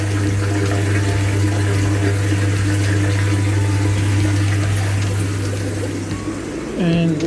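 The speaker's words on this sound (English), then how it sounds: "I've now got a tank filling back up." A fish-breeding aquarium tank refills with steady, loud running water, a constant rushing flow with a low hum, continuing throughout before shifting near the end.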